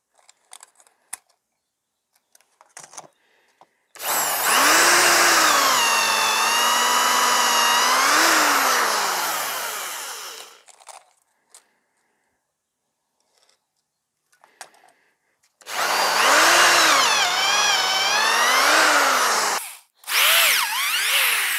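A power drill bores holes into logs for growing gourmet mushrooms, two long loud whirring runs, the first about six seconds, the second shorter with a brief stop, separated by quiet handling clicks.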